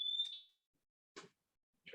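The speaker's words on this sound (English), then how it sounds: "Actually, I think it might be my fire alarm." A smoke alarm gives a faint, distant high-pitched beep at the start, followed by brief bursts of talk separated by silence.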